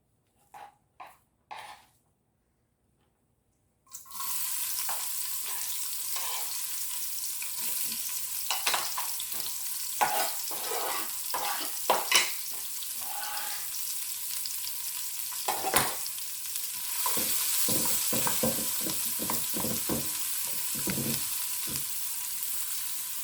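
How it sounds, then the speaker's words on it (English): Sliced onions fry in olive oil in a pot, a steady close sizzle with stirring scrapes through most of the stretch, after a few short knocks and a brief quiet gap at the start. "I'm going to add the onions that I've already sliced."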